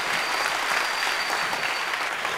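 Studio audience at a televised Turkish singing show applauding, a dense, even wash of clapping that holds at a constant level from start to finish, with no voices on top.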